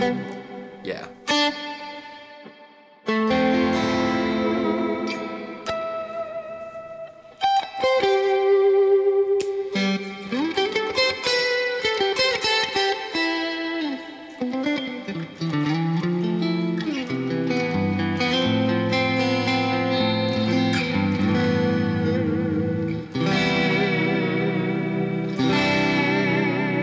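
Electric guitar played through the Neural DSP Archetype Cory Wong plugin with reverb, clean low-gain edge-of-breakup tone; sustained chords and melodic lines ring out loud and continuous with spacious tails, brief pauses between phrases.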